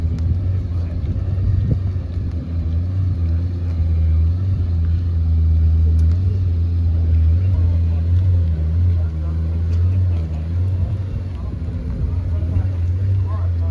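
A Lexus LFA V10 supercar engine drones steadily at a constant pitch for several seconds, loud and close with wind buffeting, while someone talks over it.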